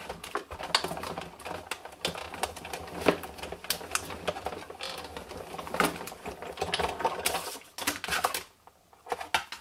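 An electronic cutting machine slicing through cardstock gives off a close, continuous mechanical rattle, with rapid clicking ticks and short whirring bursts running the full length before a brief lull near the end.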